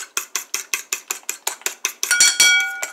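An egg being whisked in a bowl, with a fast steady run of bright utensil clicks against the bowl, about a dozen strokes, ending in a few louder ringing clatters. The mixing sits close and alone, with no talk.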